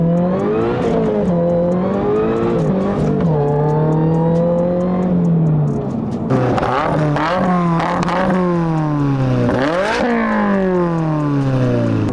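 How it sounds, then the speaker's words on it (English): A Toyota GR86 fitted with an AWE touring catback exhaust pulls through several gears, its engine note rising steadily and then dropping at each shift, loud and sustained, then accelerating again with rapid revs. "Our GR86 shop car has the AWE touring exhaust."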